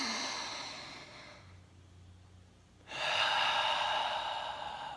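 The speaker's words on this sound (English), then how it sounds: "take a deep breath" A slow, deep breath drawn in and let out, with a long audible inhale, a quiet pause, then a fuller, louder exhale, close and with no talking.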